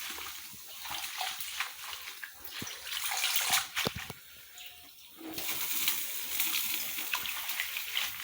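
Adémé leaves are rinsed in water, giving a continuous close splashing and sloshing with a brief lull near the middle before the swishing picks up again, with no voices.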